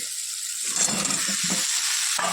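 Vegetables hit a hot kadai (wok) and sizzle loudly, a steady hissing crackle that holds throughout with faint stirring scrapes.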